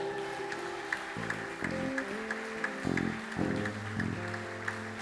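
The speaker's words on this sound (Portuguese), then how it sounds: "Você pode aplaudir ao Senhor?" A church congregation applauds during a Wednesday worship service, a steady wash of clapping sustained throughout while organ or keyboard chords sound underneath.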